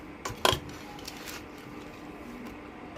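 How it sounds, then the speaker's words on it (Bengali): A utensil stirs ash gourd curry in a pan, with one sharp metallic clatter near the start followed by faint, quiet scraping. "এখন আমি ভালো করে নেড়ে দেব।"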